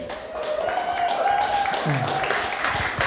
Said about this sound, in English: Everybody give a round of applause for Sherry.